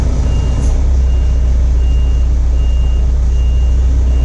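Truck backing up a trailer, loud low diesel idle rumbling close by with an evenly spaced series of about six reversing beeps sounding over it.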